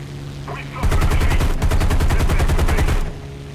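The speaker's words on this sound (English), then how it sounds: "I just ended up leaving in the clip of shooting at the 410." Aircraft guns fire at a Me 410 plane in the War Thunder combat flight game: one loud, fast, even burst of rapid shots lasting about two seconds over a steady engine drone.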